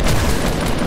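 Rapid Fortnite Battle Royale gunshots, a short, loud, continuous burst of fire with no clear talking over it.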